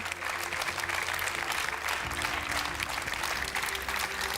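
An audience at an award ceremony rising to its feet and clapping for the Litbot and Lituanica X robotics teams, dense sustained applause filling the hall, loud and even throughout with a faint voice underneath.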